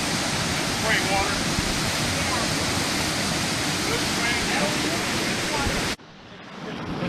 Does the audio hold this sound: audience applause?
no